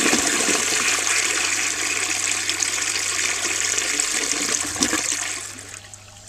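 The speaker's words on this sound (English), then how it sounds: "I'm going to flush this one" A Standard Compton toilet flushes in one steady, loud rush of water that holds for several seconds, then drains away and fades near the end, with no voices.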